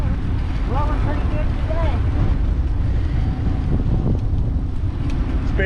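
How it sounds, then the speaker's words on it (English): A strong east wind buffets the microphone outdoors in the Lower Florida Keys, a steady loud rumbling roar with faint distant tones above it and a voice speaking beneath. "East wind, east wind, east wind. 30 miles an hour."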